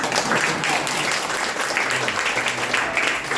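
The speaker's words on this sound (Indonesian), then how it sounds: "Ayo tepuk tangan." Applause from a church congregation at a Sunday worship service, steady and loud throughout, a dense crowd clapping with a faint voice underneath.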